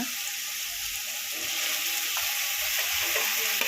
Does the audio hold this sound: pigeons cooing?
no